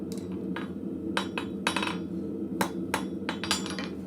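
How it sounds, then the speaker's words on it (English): Blacksmith striking steel with a cross peen hammer, a series of sharp ringing blows at an uneven pace over a low steady hum in the shop. "randomly hitting with the cross peen just to add a little bit"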